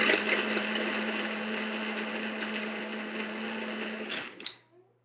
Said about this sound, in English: I'm going to mix this for a second in my magic bullet